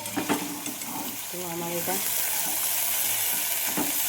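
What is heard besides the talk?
frying poppy seeds with salt in a pan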